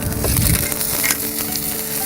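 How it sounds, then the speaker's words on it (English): Asparagus sizzles in a hot pan inside an oven, a loud, close crackling hiss with scattered pops and spits that fills the short stretch without voices. "And this oven right now is really hot. And as you can see, it's already sizzling."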